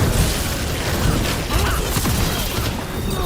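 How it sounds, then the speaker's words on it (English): Mortar rounds go off in a Dragon Age: The Veilguard battle, a dense, continuous roar of booms and crashes with little gap between them, loud throughout. "We got mortars."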